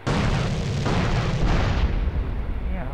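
Cannon fire in GTA San Andreas during a bank robbery mission, a loud, booming, rumbling blast that fills the moment and slowly decays.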